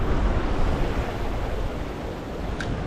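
Wind gusts across open water on a bass-fishing outing, a steady, fairly loud broadband rush that swells slightly and never breaks, with no voices.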